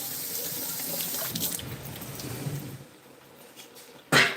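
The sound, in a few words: rinsing canned chickpeas under sink tap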